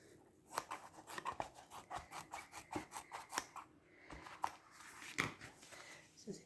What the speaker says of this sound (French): Donc maintenant, vous allez découper.